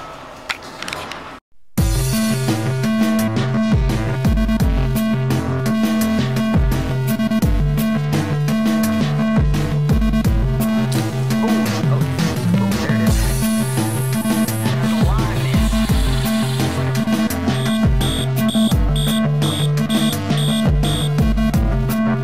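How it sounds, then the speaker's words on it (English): An elevator motor inside a Target store runs loudly and continuously, with a steady, throbbing mechanical hum and rhythmic clicking that carry on for about twenty seconds after a brief pause. "Very loud motor."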